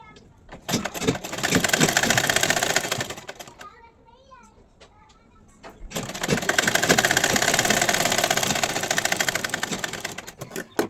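A sewing machine stitches a kurti neckline in two long, fast, rattling runs separated by a pause, loud and close, with someone speaking in the gap.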